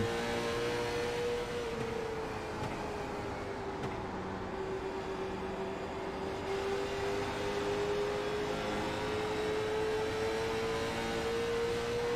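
On-board sound from the number 77 short-track race car at IRP, its engine holding a steady, loud drone that rises and falls slightly through the lap, with no talk over it.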